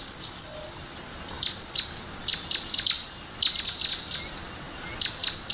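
High, thin chirps of baby birds feeding, repeated in short irregular bursts against a quiet outdoor background, from the Teletubbies children's show.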